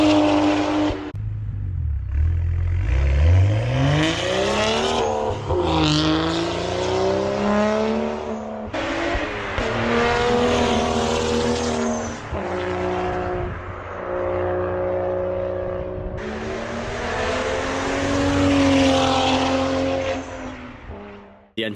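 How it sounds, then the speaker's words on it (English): A BMW with an N55 engine is driven hard, loud and close, revving up through the gears in repeated rising pulls with brief dips at each shift. "The N55 in all its glory"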